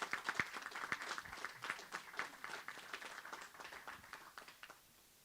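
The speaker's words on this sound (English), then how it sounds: "I think they deserve a big round of applause again." Applause for professors at a university collaboration launch, a room of steady, fairly faint clapping that tapers off near the end.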